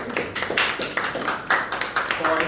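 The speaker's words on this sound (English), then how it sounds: "give them a round of applause" Audience applause at an oxygen concentrator handover ceremony at Princess Margaret Hospital: a close, steady patter of many hands clapping in uneven bursts for about two and a half seconds.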